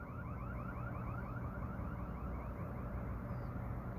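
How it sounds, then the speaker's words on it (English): An alarm wails in the distance somewhere in a Gatineau neighbourhood, a faint repeating rising-and-falling electronic tone that carries steadily under low ambient background noise. "that also sounded like a distress alarm from over in that direction"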